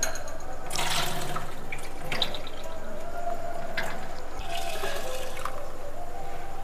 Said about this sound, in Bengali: প্রথমে ডালটাকে আমি জল দিয়ে ভালো করে চকুটে ধুয়ে নেব।